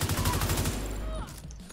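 A rapid, loud burst of automatic gunfire from The Division 2 rattles off in quick, even pulses, then gives way to a duller, fading gameplay rumble.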